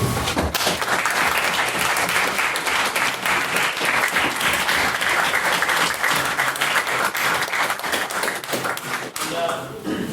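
A debate audience applauds a maiden speaker, dense sustained clapping from a roomful of people for about nine seconds, loud and close, then breaking off abruptly near the end.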